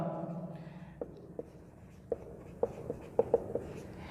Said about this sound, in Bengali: এই কথাটা অবশ্যই লিখে দেবো আমরা